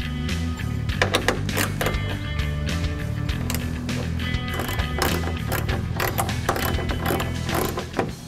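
A ratchet works the two bolts securing a motorcycle's rear turn signal housing, clicking in rapid repeated bursts close by, with no talking.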